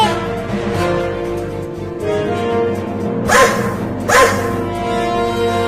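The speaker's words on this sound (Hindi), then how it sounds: "अरे बाप रे, एक बड़ा कुत्ता मुझे खाने के लिए आ रहा है।" A big cartoon dog barks under a busy music-like background, with two louder bark bursts standing out near the end of the clip.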